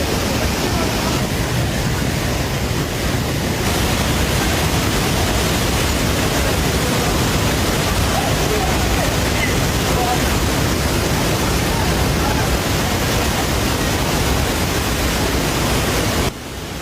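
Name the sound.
flooded Courtallam waterfall, heavy rushing water after rain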